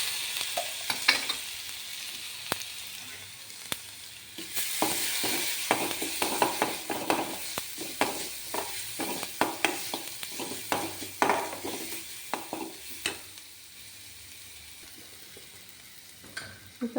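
Ground spice paste dropped into hot oil with mustard seeds and urad dal, a steady close sizzle broken by many quick scraping and clattering stirs against the pan, easing off toward the end.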